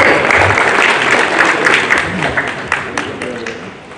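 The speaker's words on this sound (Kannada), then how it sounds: "ಸೊ ಜೋರಾದ ಚಪ್ಪಾಳೆ ಬರಲಿ ಮಂಜು ಪಾವಗಡ ಅವ್ರಿಗೆ" Applause from an audience at a film launch event for Manju Pavagada, a steady loud wash of clapping that continues throughout, with voices mixed in beneath it.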